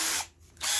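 A 5/32 drill bit boring a hole in the center of a broken phone holder, two short bursts of high whirring drill noise with a brief pause between them, close up and with no talk.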